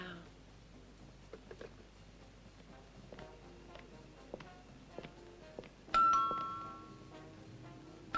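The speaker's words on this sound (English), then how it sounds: "the doorbell rang" A two-tone doorbell chime rings once, clear and moderately loud, after a stretch of quiet room noise with small clicks and rustles.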